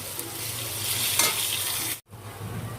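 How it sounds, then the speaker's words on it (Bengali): Turmeric, chili, salt, garlic paste and ground coriander are sautéed and stirred in a hot pan, a continuous close sizzle with brief scraping and a momentary cut before it resumes. "এই যে এখন এটা কষাচ্ছি, এখানে হলুদ, মরিচ, লবণ, একটু রসুনের পেস্ট, ধনিয়া গুঁড়া এগুলো দিয়ে দিয়েছি আমি।"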